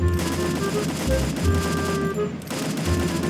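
Automatic M4A1 rifle fire from the battle-royale game Free Fire, with a gold skin: repeated loud bursts of rapid shots, close and continuous, briefly dipping before resuming.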